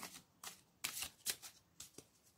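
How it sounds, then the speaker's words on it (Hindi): Tarot cards shuffled by hand, a quick series of soft riffling flutters and slaps, close and fairly quiet with no talking. "थोड़ा कार्ड को शफल कर लेती हूँ।"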